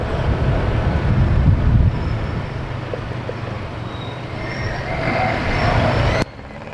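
Road traffic rumbles steadily nearby as a truck passes with a loud, broad roar, buffeted by wind noise on the microphone, then cuts off abruptly near the end.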